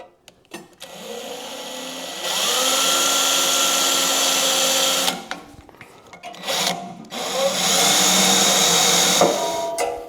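A power drill bores through the metal of a rat rod with a dull bit, two sustained grinding bursts of several seconds each, separated by short pauses and handling knocks.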